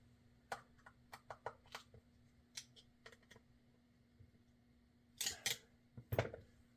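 Small metal screw being tightened into a Shimano Corsair CS300 fishing reel during a repair, heard as faint, close clicks and ticks in bursts, ending with a couple of louder scraping rattles.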